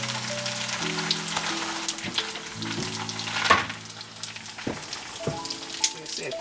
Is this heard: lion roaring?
no